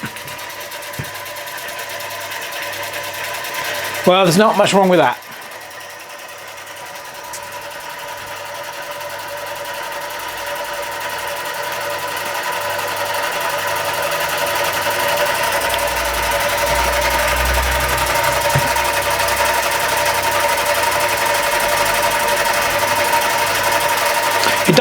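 A vintage American Weeden Model 123 model steam engine runs with a fast, even mechanical chatter that grows gradually louder and steadier, and someone speaks briefly early on.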